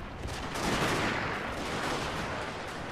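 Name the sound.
cannons firing in Shogun 2 video game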